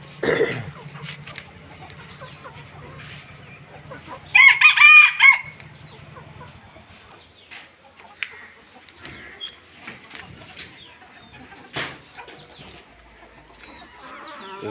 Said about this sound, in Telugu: ఇవైతే అడవి కోళ్ళు అండి ఇవి అడవి కోళ్ళు